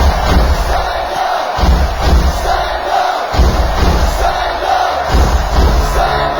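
An audience at a children's book launch event applauds the winning young authors. Loud, continuous crowd noise mixes clapping with cheers and whoops, backed by low thumping that runs the whole time.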